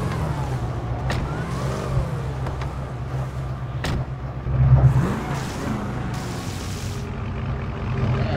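Dodge Charger widebody engine in a video game, starting up and revving, with low engine rumble and rising revs amid scattered clicks and a brief louder burst partway through.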